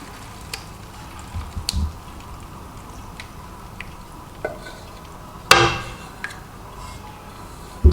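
Ground lentils roasting in desi ghee in a cooking pot give a steady low sizzle and crackle, with occasional light clinks and scrapes from stirring.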